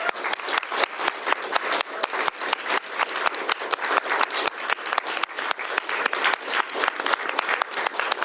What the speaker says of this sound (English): let's give Reverend Ormsby a special big round of applause for his service